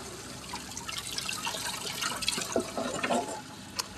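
Water spilling over and running off on a farm, a steady splashing trickle with a few louder drips, close and alone.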